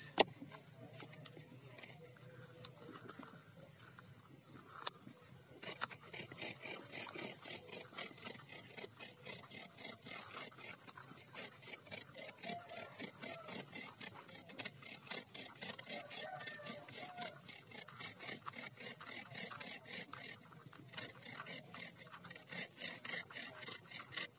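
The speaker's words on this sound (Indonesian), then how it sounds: "pakai gergaji ya guys ya di tengah-tengahnya" A hand saw rasps steadily back and forth through bamboo, with quieter handling first, then continuous rhythmic sawing strokes close by.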